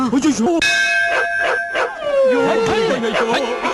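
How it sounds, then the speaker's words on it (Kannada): A dog yelps and howls inside a temple sanctum, its drawn-out cries rising and falling close by while a sustained metallic ring, like a struck bell, hangs beneath them. "ಏನು ಗರ್ಭಗುಡಿ ಒಳಗೆ ನಾಯಿ ಹೋಗ್ಬಿಟ್ಟಿದ್ಯೆ?"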